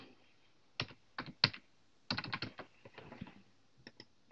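Keys tapped on a computer keyboard to type a single short word, in several quick bursts of clicks with brief pauses between them, close and fairly quiet, with no talking.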